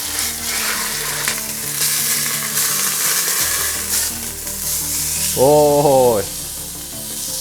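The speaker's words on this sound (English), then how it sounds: "What we're gonna do first is we're gonna sear the beef." Beef sears in olive oil in a pot with a steady, close, loud sizzle and hiss that carries through the whole stretch. A brief vocal exclamation rises over it near the end.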